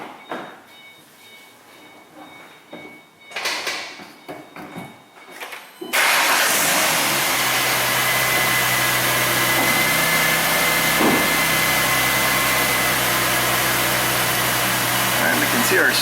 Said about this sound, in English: I'm going to go in and start the car up.